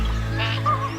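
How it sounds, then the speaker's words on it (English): Water birds honking and calling on a lake at dawn, a steady chorus over a constant low hum, moderately near. "the water birds down on the lake chatting away"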